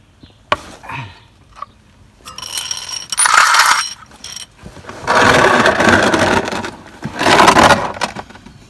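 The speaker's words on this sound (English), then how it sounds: "I'm going to break these loose here. Hopefully my ratchet's big enough." A ratchet wrench cranks on the filters of a new Kubota tractor, short bursts of rapid metallic clicking separated by pauses and a few clanks of tools, loud and close.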